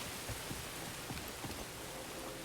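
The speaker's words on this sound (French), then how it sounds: "donc là il pleut" Steady rain falls in Star Wars Jedi: Fallen Order, a dense continuous hiss with scattered soft patters of drops, even and unbroken throughout with no voice.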